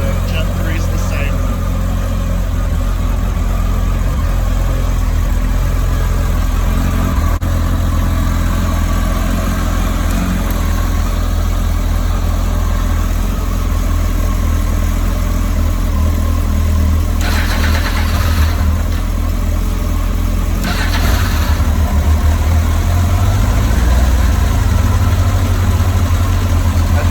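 A Kawasaki ZX-10R Gen 2 or Gen 3 sportbike, stock exhaust, not started in a while, idles with a loud steady engine drone close by, and the pitch swells briefly near the end; a voice speaks over it.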